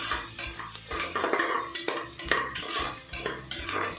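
Soaked dried peas being stirred in a pan, with a metal spoon repeatedly clinking and scraping against the cookware in a steady rhythm, close up, and only a faint sizzle beneath.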